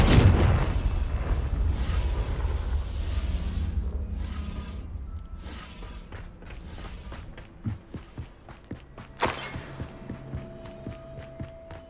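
A fire-blast spell in Hogwarts Legacy lands with a heavy, loud boom at the start that decays into rumbling debris, followed by quieter footsteps and scattered clicks.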